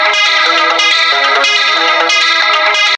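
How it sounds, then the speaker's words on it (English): A loud, continuous guitar loop drenched in chorus, distortion and echo plays in its original form, a thick shimmering wash of sustained notes with slight rhythmic swells that cuts off sharply at the end. "So this is actually a guitar loop I played."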